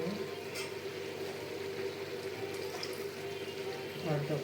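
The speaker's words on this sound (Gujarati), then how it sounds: "અડધો ગ્લાસ પાણી રેડું છું." Half a glass of water pours into a cooking pot of Gujarati green undhiyu, making a steady, continuous splashing gush that runs evenly throughout and swells slightly at the end.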